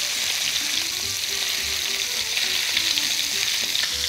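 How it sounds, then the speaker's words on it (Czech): Pikeperch fillet fries skin-side down in a hot pan with thyme, giving a steady, close hiss of sizzling oil and a few soft clicks, running on without any talk. "Hned na začátku tu rybu trochu přimáčkněte, aby ta kůže byla přímo na té pánvi, aby se vám rovnoměrně dobře vypekla."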